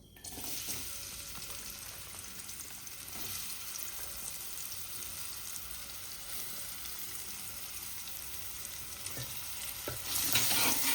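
Onions frying in a little hot oil in a pan while home-cooking chicken liver pepper dry, with a steady close sizzle and occasional scrapes of stirring, louder near the end, no talking.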